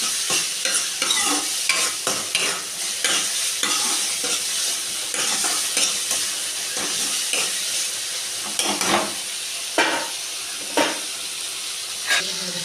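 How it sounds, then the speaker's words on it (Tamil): Onions and tomatoes with salt sauté in a pan, with a steady close sizzle under repeated scraping stirs of a spoon against the pan in an uneven rhythm. "உப்பு போட்டு வணக்கிடுவோம்."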